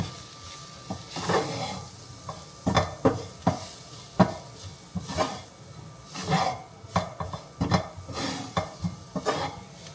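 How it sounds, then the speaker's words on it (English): Spoon stirring flour-coated vegetables in a pan, with irregular scraping strokes and light clinks over a faint sizzle, close and moderately loud. "We're gonna stir this until all the vegetables are coated nicely."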